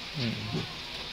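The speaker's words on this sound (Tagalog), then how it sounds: "Super lakas po ng ulan" Heavy rain falls during a storm, making a steady broadband hiss throughout, with a voice speaking briefly over it.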